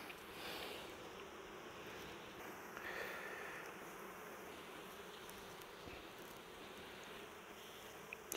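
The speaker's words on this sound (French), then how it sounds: "Elles sont cool mes abeilles." Honeybees buzz around an opened beehive frame, a soft, steady drone of many insects close by with faint shifting tones, and no talking.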